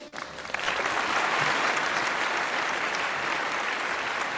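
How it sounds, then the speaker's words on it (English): A round of applause for a kindergarten quiz contestant at a school event, clapping that swells within the first half second and then holds as a full, even crowd sound. "Let's have a round of applause for Rajveer,"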